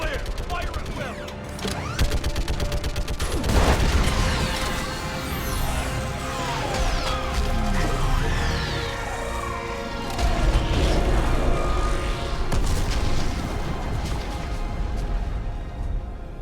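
Dense game battle noise from Mass Effect 3 during an orbital strike on a live Reaper, with bursts of gunfire, booming impacts and mechanical clanking layered over a steady rumbling score, loud and continuous throughout.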